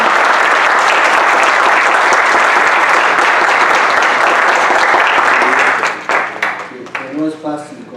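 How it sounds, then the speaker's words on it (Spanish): An audience at a medical talk on gut microbiota and diabetes applauds a doctor, loud dense clapping that holds steady for several seconds, then thins out as a voice begins speaking near the end. "quisiera que me ayudaran a darle un aplauso al doctor Paul Peterson"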